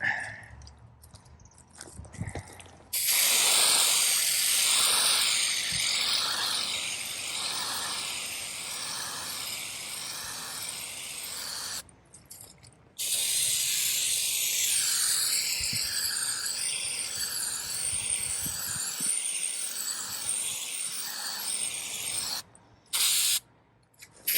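A spray can hisses in two long steady bursts, each lasting several seconds, followed by a couple of short spurts, loud and close.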